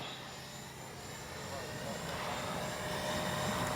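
A small FMS 64mm Futura RC jet's ducted-fan engine spools up, a broadband whooshing roar that gradually grows louder over a few seconds, heard outdoors at moderate distance.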